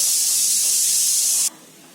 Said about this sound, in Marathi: कुकरच्या शिट्या पण होतात आहे